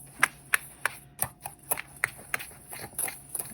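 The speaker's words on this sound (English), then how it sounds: "now you mix your dry ingredients gently" Dry pumpkin pie ingredients, including ground spices like cloves, are stirred gently in a bowl, making a steady rhythm of crisp, close taps and clicks, roughly three per second.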